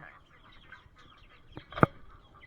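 Blue Copper Marans chickens cluck softly around a farm yard, with scattered low clucks and one louder, sharp squawk close by.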